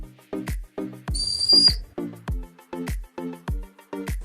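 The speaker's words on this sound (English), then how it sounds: "Next up, the whistle, which definitely works. It's not too loud or too quiet," A small whistle on a 15-in-1 survival gadget gives one short, shrill, steady blast, heard between a string of evenly spaced dull knocks.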